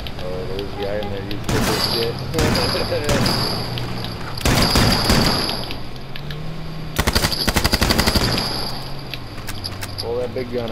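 In the H1Z1 battle royale video game, a big gun fires in bursts of rapid automatic shots over a busy game soundscape. A rattling run of shots near the end stands out, and someone talks throughout.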